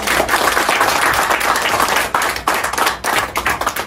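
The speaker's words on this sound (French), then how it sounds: "Est-ce que quelqu'un peut acclamer le Seigneur?" Loud, sustained applause and clapping from a church congregation acclaiming the Lord during a sermon, a dense wash of many hands with brief dips near the end.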